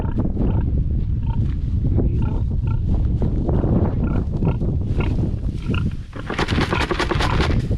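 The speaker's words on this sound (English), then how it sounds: "this right here is our rescue pig" Loud, harsh grunting and squealing from a pig close by, with rough noisy bursts and commotion throughout.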